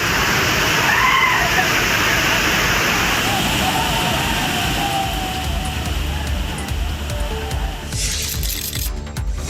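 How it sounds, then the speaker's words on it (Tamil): Panchalinga waterfall in the Thirumoorthy hills with many tourists and pilgrims bathing, a loud continuous rush of falling water with splashing and faint crowd voices mixed in, tapering near the end. "திருமூர்த்தி மலை பஞ்சலிங்க அருவியில் ஏராளமான சுற்றுலா பயணிகள் மற்றும் ஐயப்ப பக்தர்கள் குளித்து"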